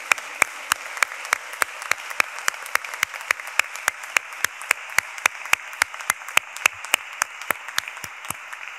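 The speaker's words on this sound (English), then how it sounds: "give them a resounding round of applause" Audience in a hall applauds graduates at a graduation ceremony, with sharp, evenly spaced claps at a steady rhythm that sound close and distinct rather than a dense roar, and almost no voices.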